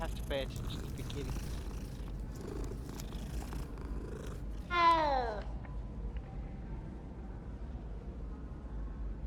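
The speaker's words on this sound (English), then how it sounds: "I have to pay attention to the kitty." A cat purrs in a low, continuous rumble close by, with a brief meow in the middle and faint voice-like sounds early on.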